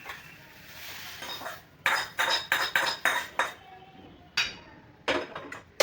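Metal utensils scrape and clink against a kadhai in a rapid series of sharp, close strokes, with short pauses between scoops of roasted food onto a plate.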